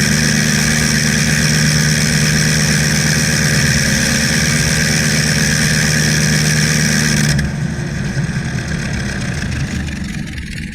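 A Gnome Monosoupape rotary aircraft engine from the First World War runs loud and steady with a dense buzzing drone, then drops off sharply partway through to a lower, quieter rumble.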